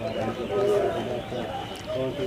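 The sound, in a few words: pigeons cooing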